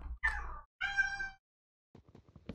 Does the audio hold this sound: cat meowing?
yes